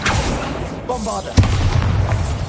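A Bombarda spell explosion in Hogwarts Legacy on PS5 bursts out as a single sharp boom midway, followed by a rumbling low tail over steady game ambience.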